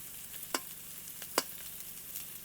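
Carrots and chopped capsicum lightly frying with a little salt in a pan for chicken pasta, a quiet even hiss with two sharp taps of a utensil on the pan.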